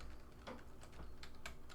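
Soft, rapid clicking of a computer keyboard as someone types a field name while building a database validation rule; the keystrokes are quiet and irregular, with a few sharper taps, and no one speaks over them.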